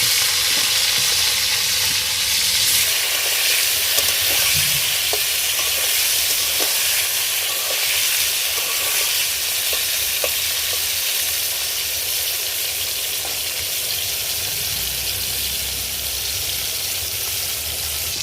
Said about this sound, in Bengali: কড়াইতে তেল দিয়ে দিয়েছি। এবার দেব নুন হলুদ মাখিয়ে রাখা বেগুন।